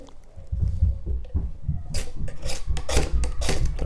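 Back edge of a sturdy multi-tool blade rasping down a ferro rod in repeated strokes, close and fairly loud, with gritty scraping bursts that grow brighter and harsher toward the end.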